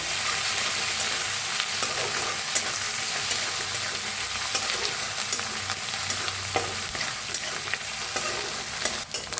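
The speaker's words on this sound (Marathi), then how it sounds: "लसूण हिरवी मिरची वाटून तेल घेतली होती ती कढीपत्ता हलवून भाजून घेऊया" Ground garlic, green chili and curry leaves stir-fry in oil in a kadhai, with a loud continuous sizzle and frequent spatula scrapes and clicks throughout, no voices.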